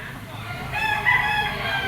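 A gamefowl stag rooster crows once, loud and close, a short strained call that rises and holds over a low background murmur.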